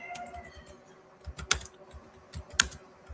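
Computer keyboard typing in bursts of quick clicks, close and fairly quiet, with two sharper key strikes standing out and no talk.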